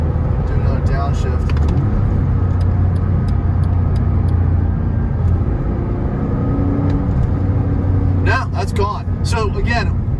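A 2005 Porsche 997.1 fitted with WEVO semi-solid motor mounts rumbles steadily through a downshift, its low engine drone continuous and fairly loud, with brief higher clicks and a short burst of sharper sound near the end.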